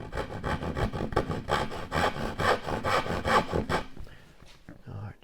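A handsaw cuts down the sides of a wooden piece for a bandsaw L-fence jig, giving close, steady rasping back-and-forth strokes in a quick rhythm that fade into a few softer scrapes at the end.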